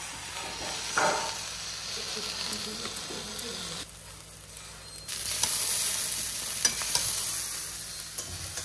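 Pasta stirring and sizzling in a hot pan with soy, tomato and green chilli sauces, a steady frying hiss with scraping stirs throughout, swelling louder in the second half, no talk.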